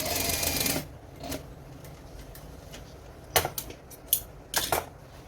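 Industrial sewing machine stitching in short, rapid bursts: one longer run at the start, then several brief clattering spurts separated by quiet pauses, close and moderately loud.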